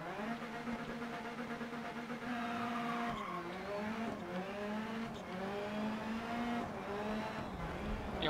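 Rally car engine in DiRT Rally rallycross, revving hard off the start line with rising and falling gear-change harmonics, close and loud, tyre squeal mixed in, running continuously.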